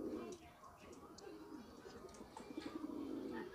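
Pigeons coo softly in a rural roadside setting while people talk over them, the low throaty calls running under the conversation at moderate distance.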